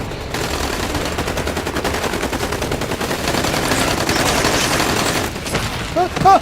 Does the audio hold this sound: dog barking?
no